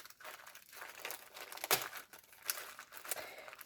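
Packaged sheets of rhinestones being unwrapped, giving close, irregular plastic crinkling and crumpling with a sharper tearing burst partway through, no talk over it.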